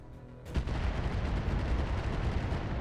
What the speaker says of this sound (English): Artillery falls down.